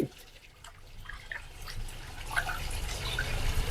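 Raw chicken is rinsed by hand, with soft, close splashing and trickling water that builds slightly over a few seconds and has no talk over it.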